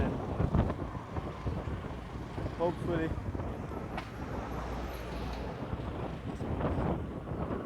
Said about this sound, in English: It's very, very windy in these particular parts